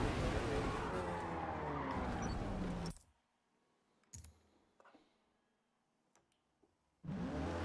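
Race car on the Nürburgring in Forza Motorsport spinning out, loud tire skid and engine roar that cuts off abruptly, a quiet stretch with a few clicks and thuds, then the engine noise returning at the end.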